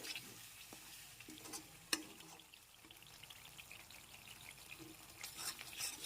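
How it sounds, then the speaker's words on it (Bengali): Sour yogurt being stirred into cauliflower in a pan for dahi gobhi, a faint soft scraping and wet shuffling with one sharp clink, quiet throughout and no voices. "টক দই দেওয়ার পর আরও একটু নেড়েচেড়ে নিলাম"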